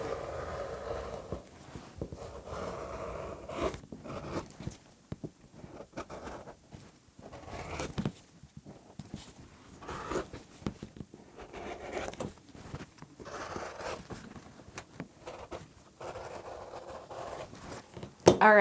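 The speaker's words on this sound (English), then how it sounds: "I'm going to go ahead and just trim with my rotary trimmer." Rotary trimmer cutting fabric lining for a crochet bag, giving soft repeated scraping and rolling strokes in irregular bursts, close and fairly quiet, with a brief sharper click at the end.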